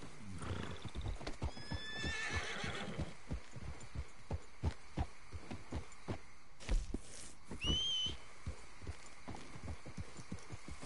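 In the video game Red Dead Redemption 2, hooves clip-clop in a steady rhythm while a horse lets out a loud whinny, followed later by a second shorter neigh.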